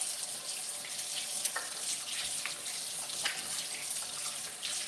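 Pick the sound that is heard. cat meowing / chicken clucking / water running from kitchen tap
water running from kitchen tap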